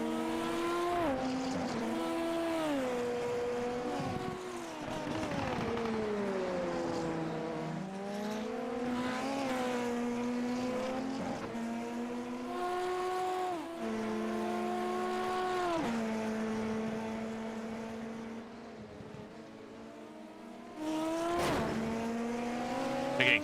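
Race cars in a Canadian Grand Prix of a hyper formula championship scream past one after another, loud engine notes rising and falling with gear changes and Doppler sweeps, continuous throughout with no talk.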